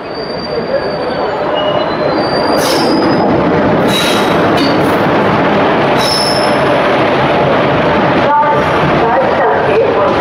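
A train on the Udupi to Bangalore route pulls into a station, its wheels squealing and carriages rumbling loudly and continuously nearby, with people talking over it.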